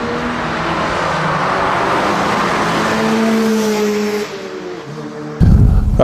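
Car driving fast around the Laguna Seca race track, a loud sustained engine roar with rising and shifting tones from inside the car, easing briefly before a sharp burst of noise at the end.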